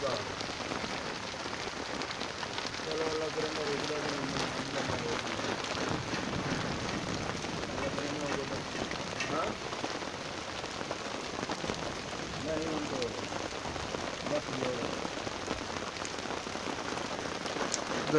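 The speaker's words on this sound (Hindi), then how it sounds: "बादलों की गरज चमक बारिश" Steady heavy rain falls on surfaces during a thunderstorm over wheat fields in Jhang, an even hiss of drops with faint low rumbles beneath, continuing throughout.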